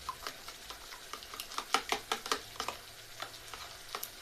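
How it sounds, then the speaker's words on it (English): Eggs being beaten in a bowl for Kenyan ugali with eggs, a quick run of sharp, rhythmic clicks and taps from the utensil against the bowl, close and clear with no talking. "now you have your eggs here. You mix them this way."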